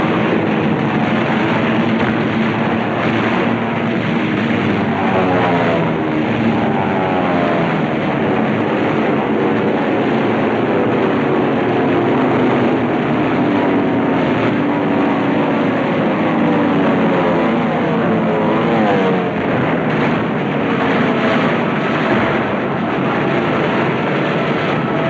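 Second World War propeller warplanes flying near a carrier in the Pacific during a strike on Truk, a continuous loud engine drone with wavering, beating harmonics that rise and fall steadily throughout.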